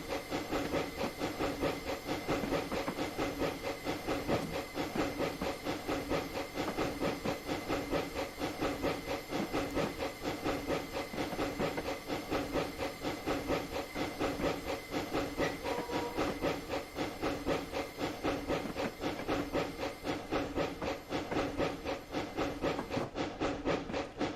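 Sustained steam hiss and rhythmic chuffing of a DSP&P Mogul steam locomotive working hard up a 3% grade in Train Simulator Classic, loud and continuous with rail noise throughout.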